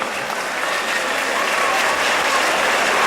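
Steady, loud applause from a crowd fills the hall at the Miss Togo 2015 pageant, dense, even clapping throughout with no break.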